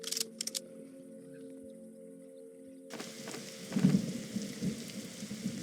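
Rain falls in a Roblox forest survival game, a steady broadband hiss of downpour that swells in after a quieter stretch, with a few louder thumps mixed in and no talking.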